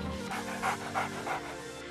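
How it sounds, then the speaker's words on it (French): A dog pants in quick, rhythmic breaths, close and moderately loud, with three or four stronger bursts over a steady low background hum. "Je vais jouer avec mon chien."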